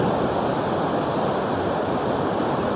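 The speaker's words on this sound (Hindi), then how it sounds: "ये पानी की लहरें देखो आप," Swollen Pinder river in flood at Tharali, its water churning and surging in a loud, continuous roar of rushing waves, broadband and steady throughout with no voices.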